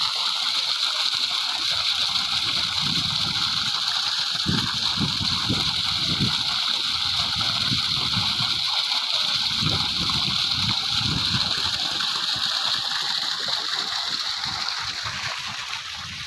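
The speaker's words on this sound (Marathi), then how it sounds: "असं आता पाटाने पाणी येतं आता" Continuous rushing of irrigation water running through a field channel to soak land for wheat sowing, a steady broadband flow with occasional low gurgles, close and fairly loud.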